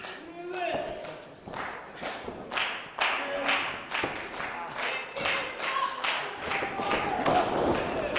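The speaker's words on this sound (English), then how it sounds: "Crowd is coming to life here at the Nile Theater for D-Man." A wrestling crowd at the Nile Theater claps steadily and cheers as a match heats up, with sharp overlapping claps and thuds close by and a ring commentator talking throughout.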